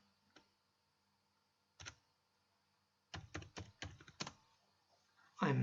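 Computer keyboard typing a command, with a few isolated keystrokes followed by a quick cluster of clicks and a final louder key press, heard close and alone in a quiet room.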